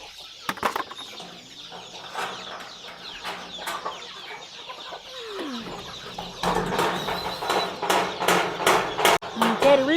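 Chickens cluck and call at a rural poultry yard during the rainy season, with a rooster-like crow and fluttering mixed in, close and fairly steady, growing busier and louder in the second half while someone talks briefly.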